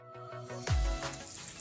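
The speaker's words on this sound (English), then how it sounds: "Okay, so now we're just gonna add our chopped onion." Chopped onion goes into a pan of frying bacon with a sudden loud sizzle that swells and then settles into a steady crackle. It follows a brief low clatter and plays alone with no voices.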